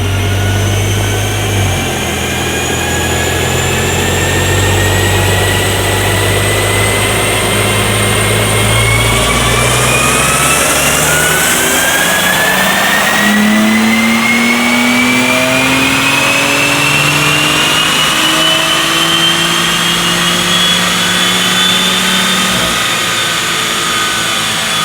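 A BMW M4 fitted with a ram air intake runs on a dyno, its engine droning loud and steady, then climbing in pitch through a long sustained pull with a rising whine.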